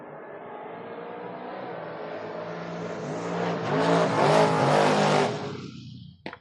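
Drag race cars, including a Mustang, scream down the strip at a door-car event, their roar building to a loud peak and then fading away with no talk.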